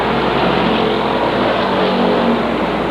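Late model stock cars roar down the backstretch at Waterford Speedbowl in 1993, a dense, loud, unbroken engine drone from a single-file field with no clear gaps between cars.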